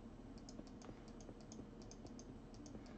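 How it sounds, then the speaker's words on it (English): Rapid keystrokes clack on a loud mechanical keyboard, an irregular but steady run of crisp clicks close by, with no talking. "my keyboard is super loud. It's a mechanical keyboard."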